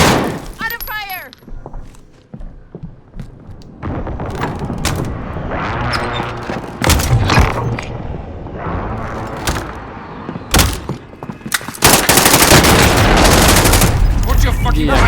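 Loud, dense video game gunfire in a battle-royale match, with rapid automatic bursts, heavy booms and sharp single shots layered over continuous noise, with shouted game voice lines mixed in.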